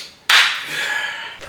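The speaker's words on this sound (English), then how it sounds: "Do me a favor, hit us with a clap" A single sharp hand clap, sounded to mark a time-capsule recording, rings out in a reverberant room and fades slowly, with a fainter tap near the end.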